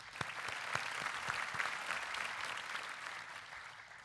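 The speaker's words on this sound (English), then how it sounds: "Let's remember them and applaud for those alumnus here." An audience at a school graduation ceremony in Kochi applauds, a dense steady patter of many hands clapping at a moderate distance, with a few sharper individual claps standing out.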